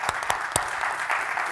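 Audience at a conference session clapping together, a steady wash of applause at moderate distance with a few louder individual claps standing out.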